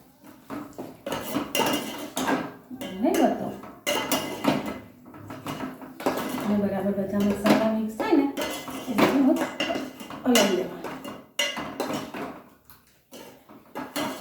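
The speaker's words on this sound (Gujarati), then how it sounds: "આપણે આ જે વેજીટેબલ વાપરીએ મસ્ત એડ કરશું અને બરાબર એને હલાવી દઈશું" Mixed vegetables stirred in a metal pan with a spoon for a royal mixed-vegetable dish, giving repeated clinks and scrapes of utensil on pan, steady through the clip with a person talking over them.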